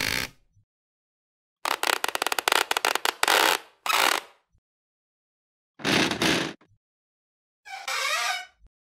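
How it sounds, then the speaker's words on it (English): AI-generated squeaky floor sound effects for a game, heard as several short separate bursts of rasping, ratcheting creaks with gaps of silence between them, alone with no talking. "And finally, we'll try generating for a squeaky floor."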